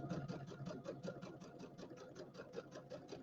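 A sewing machine stitches a pillow seam in a fast, even run of rapid mechanical pulses, steady and fairly faint throughout.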